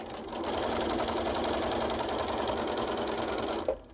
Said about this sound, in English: So I'm going to sew my shoulders at just a 1/2 inch.